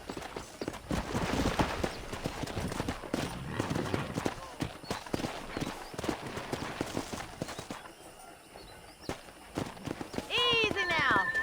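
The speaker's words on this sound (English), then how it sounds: "let's see if we can't wrangle some horses" Video game horses in Red Dead Redemption being wrangled: hooves clip-clop over shifting ground amid a busy mix of movement and noise, with a horse whinnying near the end.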